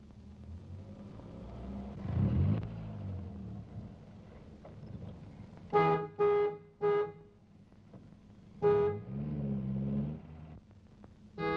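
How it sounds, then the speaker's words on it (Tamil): A car horn plays a tune, honking in short repeated bursts of two or three toots. The bursts sound close over a low rumble and wind noise, with the tooting carried along like a cycling rhythm. "நான் ஹார்ன் அடிக்க"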